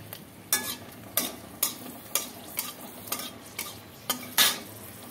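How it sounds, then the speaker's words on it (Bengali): Dried red chillies frying in hot oil in a pan, a steady sizzle broken by about eight sharp, rhythmic scraping strokes of a spoon stirring the pan, close and clear with no talking. "আচ্ছা, তেলটা গরম হয়ে গিয়েছে, আমি শুকনো লঙ্কাগুলো একটু ভাজবো।"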